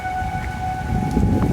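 Civil defense tornado warning sirens wail steadily from a distance, with wind gusts and light rain rumbling beneath the sustained tone.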